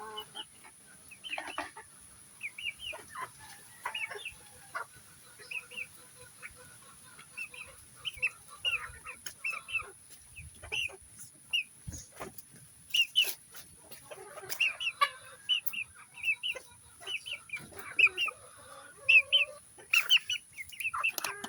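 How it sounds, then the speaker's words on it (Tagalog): Backyard chickens clucking and squawking at feeding time, with rain falling, repeated short clucks in irregular bursts close by across the whole stretch. "Papakain po tayo ng ating mga manok."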